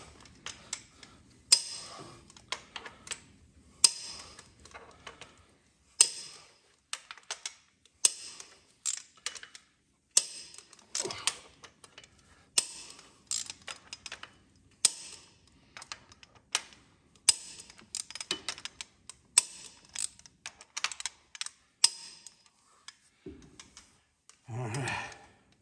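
Torque wrench clicking as each head bolt on a Caterpillar C15 diesel engine is rechecked, a long run of sharp, irregular clicks and ticks close by with short gaps, no talking.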